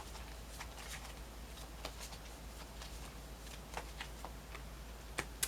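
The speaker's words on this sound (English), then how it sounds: "let us pull a modifier card over that Four of Cups" A deck of tarot cards being shuffled and pulled, faint papery riffles and flicks over a low steady hum, with a couple of sharper card snaps toward the end.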